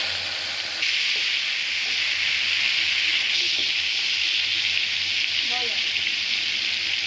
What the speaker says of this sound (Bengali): এদিক দিয়ে আমি সরিষার তেল গরম বসিয়েছি এখন এখানে দিয়ে দিচ্ছি কিছু চিংড়ি মাছ